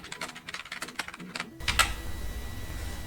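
Keys clatter in quick irregular bursts as a keyword is typed on a computer keyboard, close and fairly soft, followed by a short pause and a single louder click.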